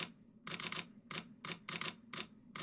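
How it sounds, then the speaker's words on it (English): The mechanical shutter of a Sony a7IV camera fires in about six rapid bursts, each a quick, close clatter of clicks separated by brief pauses. "the a7IV, as a kind of traditional photo camera, does have a mechanical shutter"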